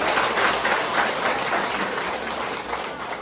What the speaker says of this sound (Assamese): ডাঙৰ ডাঙৰকে হাত চাপৰি হ'ব লাগে।